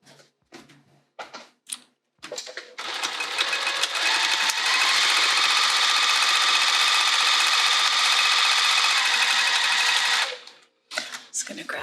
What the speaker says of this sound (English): Sew both of these edges.